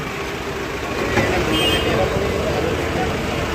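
Heavy, congested road traffic on the way to Vashi market, with a steady dense rumble of cars, buses and trucks and a horn toot standing out, continuous throughout with voices mixed in.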